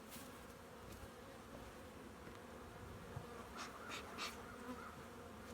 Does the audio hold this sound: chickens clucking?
no